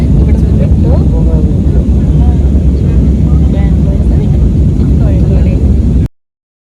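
A loud, steady airplane engine roar at Kozhikode airport fills the whole stretch, dense and rumbling, with faint voices barely audible underneath before it cuts off.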